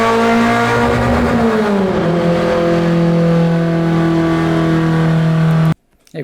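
A tuned Ford Fiesta with a Zetec engine on a FuelTech-managed pull roars loud and close, holding a steady high rev with a pitch that sags slightly as the gear changes, then cuts off abruptly.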